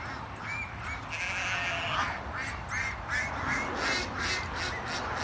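Ducks and geese on a dry summer farm field call out in repeated quacks and honks over steady outdoor background noise, fairly close and continuous with no talking.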